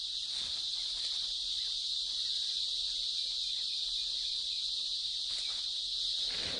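A chorus of cicadas drones in one continuous, loud, high-pitched buzzing hiss that stays steady throughout, with no voices.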